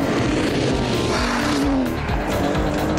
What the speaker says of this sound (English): The sheer sound of that V12 warming up wasn't enough to get you excited about a bit of high-speed motoring